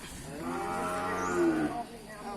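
Crossbred cattle at a livestock market: one long, loud, close moo rises and swells for almost two seconds before breaking off, with faint market background noise behind it.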